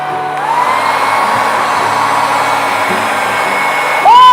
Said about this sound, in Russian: А теперь я включаю фен.